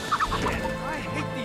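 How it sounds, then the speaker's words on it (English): A chicken in the video game Heavy Rain gives a few quick, gobbling clucks up close over a busy background of game music and ambience. "There's a chicken flying in."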